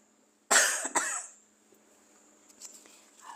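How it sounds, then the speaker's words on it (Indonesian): Two sharp coughs in quick succession from a woman during an Indonesian live lesson, the first harsh and forceful, the second shorter, then faint room sounds after. "Alhamdulillah batuknya awet."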